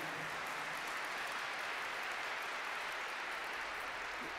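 Congregation applause at a French Catholic church service, a steady even wash of clapping that stays quiet and distant throughout without any talk over it.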